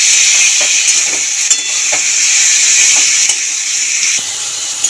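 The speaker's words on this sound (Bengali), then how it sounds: "মশলাটাকে ভালো করে কষিয়ে নেব।" Masala with slit green chilies stirred and fried in a pan, a steady bright sizzle and hiss running throughout with occasional soft scrapes of the spoon.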